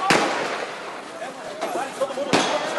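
A few sharp gunshot-like bangs ring out during a police operation in Brazil, with one loud crack near the start and another late on, over outdoor commotion and background voices.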